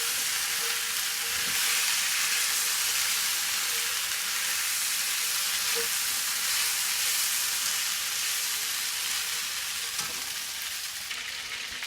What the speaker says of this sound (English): You want to fry your Spaetzle until it's nice and toasted up, but not dried out